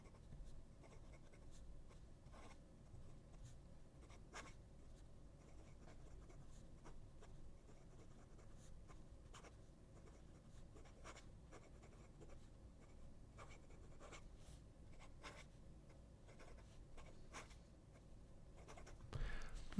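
An extra fine fountain pen nib scratches softly across paper in quiet, continuous strokes with small taps and pauses, close and faint, with no talking.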